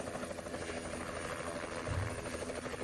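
A helicopter passes overhead with a loud, steady rotor drone and engine whine that fills the whole clip, swelling slightly near the end.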